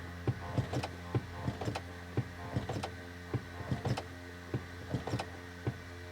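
Land Rover LR3 brake system pump motor cycling during a brake fluid replacement, a series of short whirring bursts repeating at irregular intervals, close and fairly loud with no talking.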